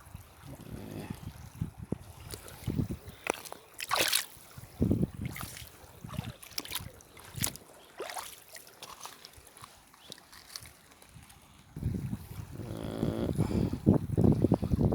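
Waterfall and stream at Jukgokcheon creek, with a steady broadband rush of flowing water swelling louder toward the end, broken up by intermittent nearby voices talking over it.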